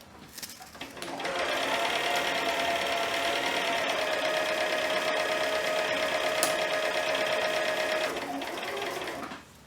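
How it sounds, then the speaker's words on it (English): Sewing machine winding elastic onto a bobbin, a steady close motor whir with a rattling hum that starts after a second, runs evenly for about seven seconds and then stops. "And that is how you wind your bobbin."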